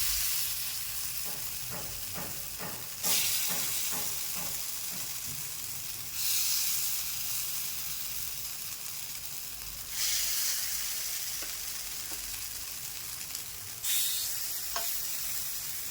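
Appe batter with onion cooking in a hot appe pan, a steady close sizzle with bursts of louder hiss every few seconds as portions hit the pan, plus a brief series of quick taps early on.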